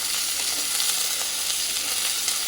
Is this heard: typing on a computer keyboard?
no